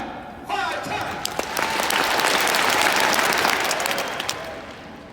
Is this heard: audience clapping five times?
yes